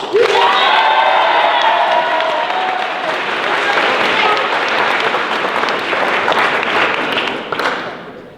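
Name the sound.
audience clapping at improv comedy show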